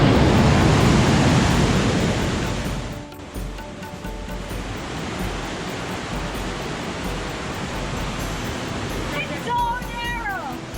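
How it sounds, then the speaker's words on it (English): River water rushing through Partnach Gorge in the Bavarian Alps, a loud, continuous roar of surging water echoing along the narrow gorge walkway, steady throughout and slightly quieter after the first few seconds. "listening to the water surging by as you weave through caves and alleyways"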